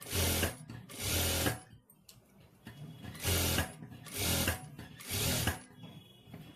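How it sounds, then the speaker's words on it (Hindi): Sewing machine stitching fabric along a strip on a beaded neckline, running in five loud, close bursts of rapid mechanical whirring and clatter, separated by short pauses, with no talking. "तो यहाँ पे हम एक सिलाई लगा लेंगे"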